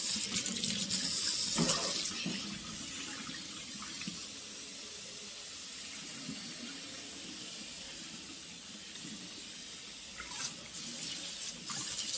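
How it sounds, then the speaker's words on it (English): Hot water sprays hard from a sink faucet in a continuous rushing hiss, with a few clatters as it splashes. "Now let's give it a good spray with some hot water."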